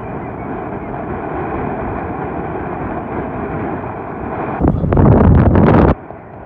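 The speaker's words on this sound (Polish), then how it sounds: "Okropny wiatr na otwartym jeziorze." Strong wind buffets the microphone on an open frozen lake along a November ice road, a constant loud rushing roar that swells into heavier gusting bursts near the end before easing.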